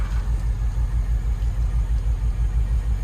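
A 2005 BMW X5 with a 4.4L V8 at 156k miles runs steadily with its check engine light on, giving a close, low rhythmic rumble with an even pulsing throb and no talk.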